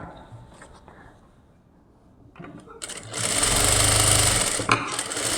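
A sewing machine runs a steady, loud burst of stitching while sewing a lining blouse, starting after a quieter stretch with brief talk and cutting off abruptly near the end.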